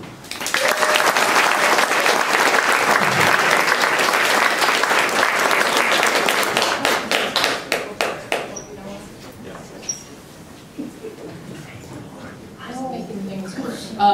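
An audience applauds to welcome a speaker at an evening research presentation, loud sustained clapping that thins into scattered claps and fades, followed by quiet room noise.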